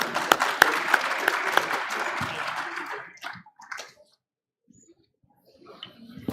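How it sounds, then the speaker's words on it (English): Brief applause greets a deputy mayor at a community evening event held in a courtyard, with scattered claps that thin out after about three seconds, followed by near silence and a few faint sounds. "So please welcome him with a round of applause,"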